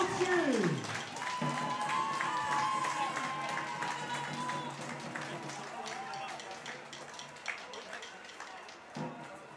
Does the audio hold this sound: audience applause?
yes